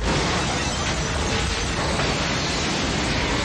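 A dense, roaring blast of broadband noise that rumbles on steadily without a break, like a big explosion from a movie soundtrack.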